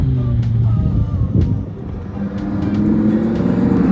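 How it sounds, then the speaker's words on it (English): A Lamborghini Huracan EVO RWD Spyder 2020's V10 engine drones low and rumbling at a steady cruise in sport mode with exhaust valves open, with slight swells in pitch as it rolls along. "You got the V10 engine, we got the exhaust valves open, it's on sport mode"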